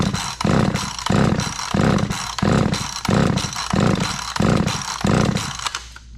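A chainsaw's starter cord yanked about ten times in a row with the throttle held wide open, each pull a loud ratcheting burst in an even, repeating rhythm with short pauses between.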